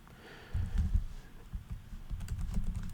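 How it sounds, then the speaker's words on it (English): A password is typed on a computer keyboard in a quick run of soft, close keystrokes, steady for a few seconds with no one speaking. "I am going to put in a password."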